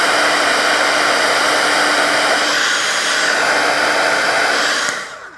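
A heat tool melting embossing powder on a card blows with a steady, loud, close hiss of air for about five seconds, then cuts off, with no talk.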